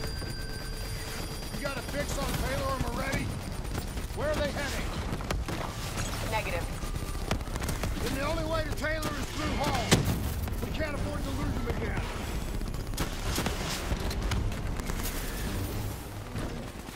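Video game gunfire from Call of Duty: Black Ops III: rapid bursts of shots and impacts crackle throughout a battle against a robot, mixed under frequent voiced radio chatter and game dialogue.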